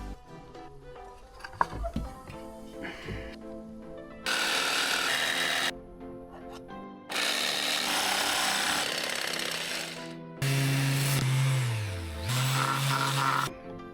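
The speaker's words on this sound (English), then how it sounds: "Drill." A power drill runs on a boat under renovation in bursts, several loud sustained whirring stretches separated by pauses, the last one dipping in pitch as the bit loads up before spinning back to speed.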